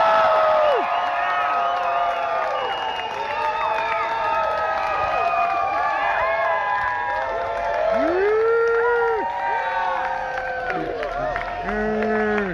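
A festival crowd at a costume contest cheers and whoops for the winner, with many overlapping shouts and high yells sustained loudly throughout, mixed with applause.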